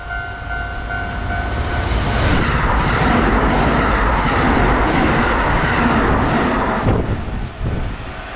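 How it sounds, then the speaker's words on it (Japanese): A train passes nearby with a steady, loud, broad rumble and rush that holds for about eight seconds, with a brief sharp rattle near the end. "どっちから来るのかな、電車は。"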